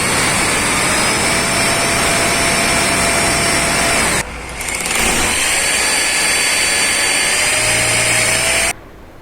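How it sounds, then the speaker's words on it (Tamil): A power drill boring into a wall to mount a Hikvision door entry intercom, a loud close whine running steadily with a short break midway and a sudden stop near the end. "இந்த மாதிரி ட்ரில் பண்ணிடுங்க"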